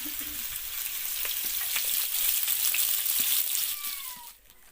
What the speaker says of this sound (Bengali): মাছটা খুব সুন্দর ভাজা হয়ে গেছে।